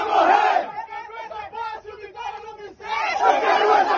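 Football supporters of Vitória chant together at a match against Itabuna, a loud, dense crowd roar that swells at the start, dips into rhythmic shouted phrases, then surges again near the end.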